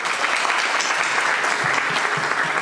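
A church congregation at a Christmas service in Doncaster applauds loudly, a dense and sustained wash of many hands clapping together close by.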